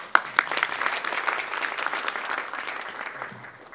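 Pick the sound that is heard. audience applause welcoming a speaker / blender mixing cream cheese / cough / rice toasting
audience applause welcoming a speaker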